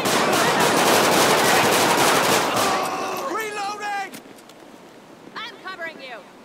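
Dense, sustained gunfire from a Grand Theft Auto 5 police patrol shootout, loud and continuous for several seconds before fading, with shouted voices over it.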